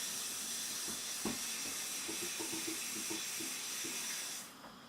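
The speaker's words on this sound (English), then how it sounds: "Next, add water into your blender jug." Water pours steadily into a blender jug in a home kitchen during cooking, a soft continuous hissing trickle with a few faint clinks, close and quiet, ending abruptly.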